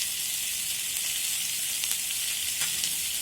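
Onions frying in a pan with turmeric and salt give a steady close sizzle, an even hiss with a few faint stirring taps, and no voices.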